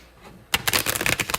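Tarot cards shuffled by hand at close range: a quiet lead-in, then a sudden burst of dense riffling and snapping card clatter that runs on in quick, uneven flurries.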